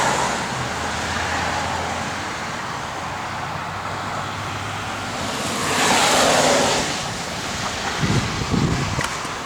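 A 1971 Chevrolet Chevelle SS driving down the road, its steady engine and road rumble heard alongside heavy wind buffeting the microphone, with a louder rushing gust near the middle and a few bumps near the end.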